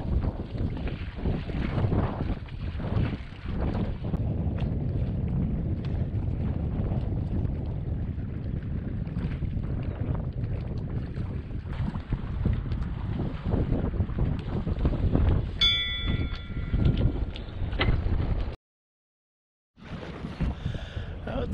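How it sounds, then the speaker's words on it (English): Steady wind buffeting the microphone aboard a sailboat at sea, with a constant low rushing roar and water noise for about eighteen seconds, then a brief silent dropout before the wind returns. "we got a little bit of wind"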